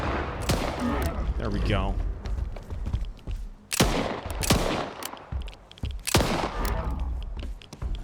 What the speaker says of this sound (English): Let's see if we can't throw another 2 grenades here.